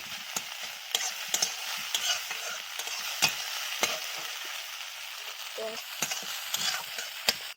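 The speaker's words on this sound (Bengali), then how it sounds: "ডিমটা আমার ভাজা হয়ে গিয়েছে এবার আমি ডিমটা তুলে নিচ্ছি" Steady sizzling of an egg frying in hot oil, with repeated scraping and stirring clicks of a utensil against the pan, close up.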